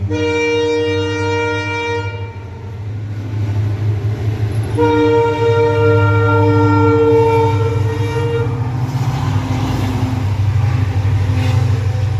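A passenger train sits at an Indian railway station under a cloudy sky. Its horn blares loud and close in two long, sustained blasts over a low, steady engine rumble, and no one speaks.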